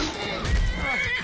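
A horse in the video game Skyrim neighs loudly in a brief, wavering whinny, with clattering game sounds and faint combat noise around it.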